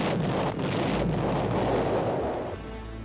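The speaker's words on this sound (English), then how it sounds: "They would suddenly lay down vast areas of fire from artillery pieces." Artillery fire: a dense, continuous roar of booming blasts and rumbling noise, loud and wind-buffeted, fading out near the end.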